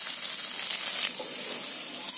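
Onion sizzling as it hits hot oil in a pan while cooking dum aloo, a steady close hiss of frying that stays even throughout with no talking.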